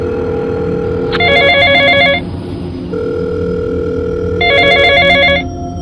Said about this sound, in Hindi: अभी वो इस सदमे से निकल भी नहीं पाई थी कि पॉकेट में रखा उसका फ़ोन दोबारा बजा।